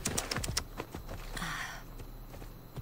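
Horse hooves clop in the Assassin's Creed Odyssey video game, a quick run of soft footfalls at the start that thins into scattered, faint steps over low game ambience.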